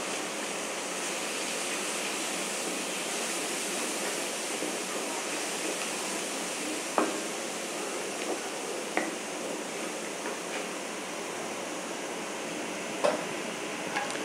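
Half a spoon of garlic paste and a spoonful of onion fry in a pan while being stirred, giving a steady, even sizzle with a few sharp spatula clicks near the end and no talking.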